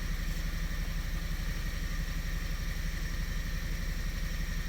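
A 2017 Kia Sorento 2.0 turbo engine idles with a misfire after an injector is unplugged, giving a steady, close, uneven chugging rumble with no talk over it.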